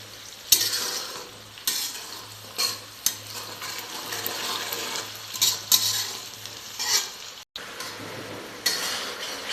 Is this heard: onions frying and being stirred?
yes